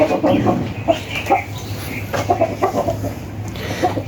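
Chickens, one with a broken left leg, cluck repeatedly nearby in choppy bursts over a low steady hum, a few calls rising sharper than others.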